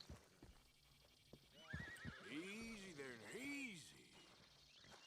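A horse in a video game neighs with a loud, drawn-out whinny and then a second rising-and-falling call, hooves clip-clopping faintly beneath, close and clear over a quiet background.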